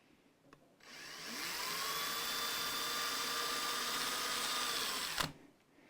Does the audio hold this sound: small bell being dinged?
no